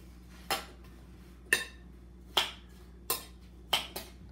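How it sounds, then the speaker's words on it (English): A utensil clinks and knocks against a bowl while haroset of apple, nut and raisin is mixed, giving five sharp, separate taps at uneven intervals, close and fairly quiet, with no talking. "And let's mix up our haroset here."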